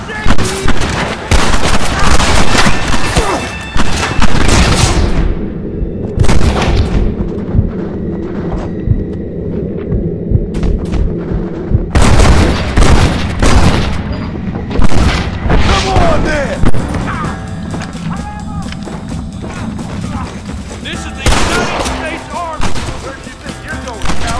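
Heavy gunfire and booming blasts roar through a battle in the video game Red Dead Redemption. Dense, loud volleys come with shouted voices over the din.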